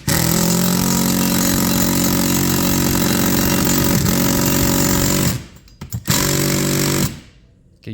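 A power driver runs steadily, sinking a screw into a solid wall stud to mount a Vevor extension cord reel bracket, its motor whine loud and continuous for about five seconds before cutting off, with a brief second burst.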